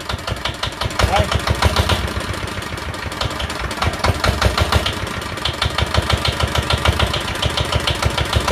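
A Yanmar diesel engine idles loudly and close by, a steady rapid knocking chug with metallic clatter throughout, with someone speaking briefly over it.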